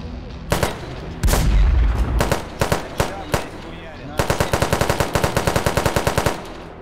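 Gunfire in the video game Unturned cracks in scattered single shots, then a rapid burst of automatic fire, loud and sharp. Someone talks in between.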